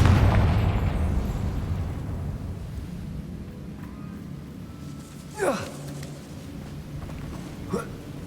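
Confringo fire spell from the game Hogwarts Legacy, heard after a loud rumbling blast that fades into ambient background, with two sharp whooshing spell bursts later in the game scene.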